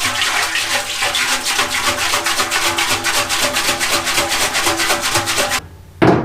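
A motorcycle fuel tank holding muddy liquid and rust flakes is shaken vigorously, giving a loud, continuous rhythmic sloshing and swishing that stops abruptly near the end with a final thump.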